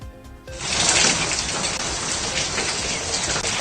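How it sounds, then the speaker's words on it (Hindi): Heavy monsoon rain pours down in Mumbai, a dense, steady roar of drops hitting surfaces that swells loud after a quieter first half-second and keeps on without a break. "मुंबई में बारिश ने कहर बर्पा किया हुआ है"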